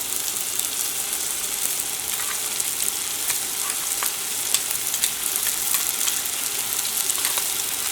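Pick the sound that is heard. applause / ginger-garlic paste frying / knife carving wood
ginger-garlic paste frying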